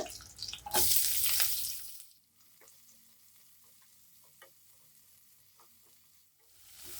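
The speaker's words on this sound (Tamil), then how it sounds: "நல்லா வெங்காயம் நல்லா நிறம் மாறுற வரைக்கும் வதக்கிக்கலாம்" A loud sizzling burst as sliced onions hit a hot pan, then a quieter steady frying crackle with a few light stirring clinks.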